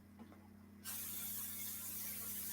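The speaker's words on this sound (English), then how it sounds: "Give me a good little spray there." After a brief quiet moment, a sudden continuous cooking spray hisses loudly and close up, holding steady until the end.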